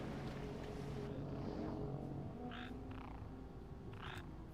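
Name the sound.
frog creature croaking underwater in World of Warcraft video game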